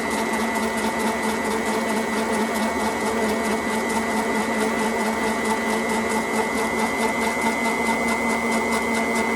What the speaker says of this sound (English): I got the lathe on the slowest setting. I think it's 365 RPM